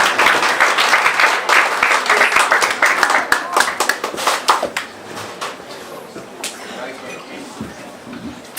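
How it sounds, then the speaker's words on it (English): An audience at an African festival applauds as a dignitary walks to the stage, loud dense clapping that gradually thins into scattered individual claps and fades out, with some voices mixed in. "So please give a round of applause as he makes his way to the stage."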